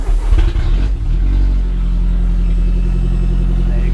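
An Audi TT track car cranks and fires up on its start button, a brief rough churn before settling into a steady, loud low idle rumble close by.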